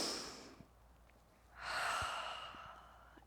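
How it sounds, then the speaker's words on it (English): Slow, deep breaths during a gentle yoga stretch: a soft exhale fades out, then a fuller, louder breath swells and tapers, close and quiet with no talking. "we're going to take 3 big breaths in to finish"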